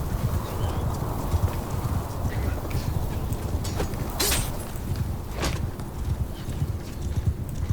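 Horse hooves clip-clopping in the medieval game In The Name Of Jerusalem II, a steady trotting patter under battle ambience with a couple of brief sharp impacts.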